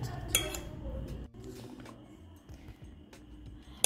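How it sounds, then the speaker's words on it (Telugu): A utensil works through brownie batter with vanilla extract in a bowl, making soft irregular scraping and occasional light clinks against the bowl, close by over a low background. "మళ్ళీ ఒకసారి బాగా తిప్పుకుందాం"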